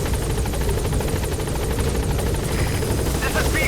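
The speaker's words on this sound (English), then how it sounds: "Support helicopter has arrived." A support helicopter's rotor thumps steadily and loudly throughout as it arrives in the video game Metal Gear Solid V: The Phantom Pain, close and continuous, with engine whine layered over the beating blades.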